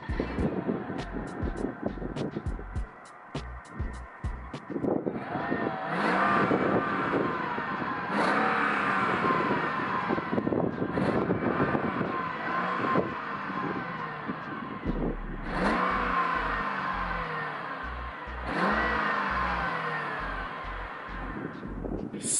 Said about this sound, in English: I'm gonna start the car back up. I'm gonna show you guys the exhaust.